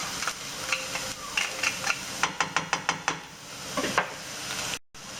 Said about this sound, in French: On mélange donc l'ail à l'oignon.